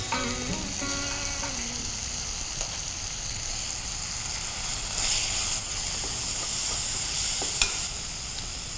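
Ground masala frying in a pan with softened onion and tomato, a steady close sizzle with occasional stirring scrapes, rising slightly louder midway.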